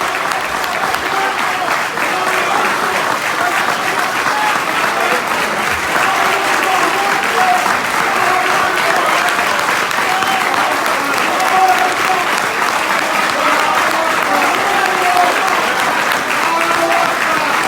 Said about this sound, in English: Let us welcome our sister, Dr. Ava Muhammad, to the round of applause